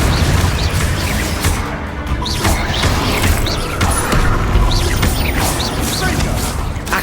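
Confringo fire spell explosions in the Hogwarts Legacy video game: a sustained loud rumbling blast with crashing, mechanical impacts and repeated bursts, heard under a speaking voice.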